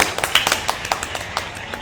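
A few people clap to welcome a student at a university business program event, with scattered, uneven hand claps and taps that are close and distinct rather than a full ovation.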